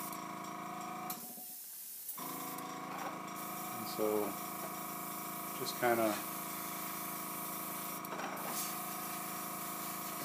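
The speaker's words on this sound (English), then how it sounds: "Get on my airbrush here." An airbrush sprays paint onto a miniature Martian tripod model from All Quiet on the Martian Front, with soft steady hissing bursts under a continuous hum and someone speaking briefly.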